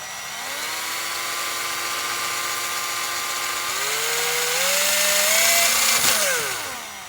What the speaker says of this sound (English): I'm going to try and hold this and drill at the same time